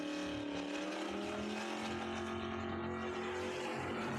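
A 1969 Chevelle SS with a small block and a Fox Body Mustang drag race at a dragway, their engines heard as a continuous steady roar with a sustained tone, moderately distant and without talk.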